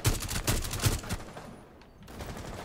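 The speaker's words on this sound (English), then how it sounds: "This guy shooting down across over the stairs." Rapid gunfire in the Rainbow Six Siege game, a quick burst of several sharp shots up close, then a brief lull before more muffled firing resumes.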